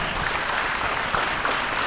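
An audience at a community college evening event applauds the platinum sponsors, a steady, even wash of clapping from many hands, moderately distant.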